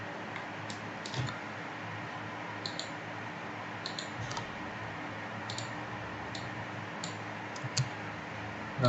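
Computer mouse clicks while working in Robot Structural Analysis software, a sparse series of crisp single and double clicks spaced a second or two apart over a quiet room background.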